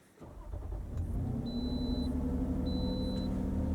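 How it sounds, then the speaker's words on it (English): Toyota Rav4 engine starting, a brief crank that catches and settles into a steady idle hum, close and moderately loud, with a thin whine over it. "Next, start the car."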